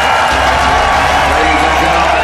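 A dense arena crowd cheers and applauds continuously after a grappling match in which a lightweight fighter beat a much bigger opponent, with a voice talking over the loud crowd noise.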